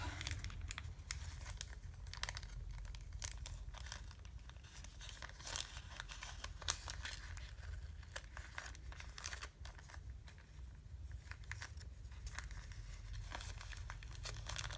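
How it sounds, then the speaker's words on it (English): Paper is trimmed and handled for a junk journal, producing continuous crinkling, rustling and snipping close up, steady and fairly quiet with no talking. "I'll trim all that paper"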